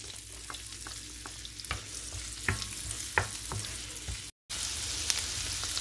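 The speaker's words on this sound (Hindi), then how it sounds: "पैन में 1 टेबल स्पून के जितना बटर डाल देंगे। और साथ ही इसमें ऐड कर देते हैं अनियंस।" Onions fry in a tablespoon of butter in a pan, giving a constant soft sizzle broken by sharp spoon taps and scrapes against the pan, close by and free of talk, with one brief dropout near the end.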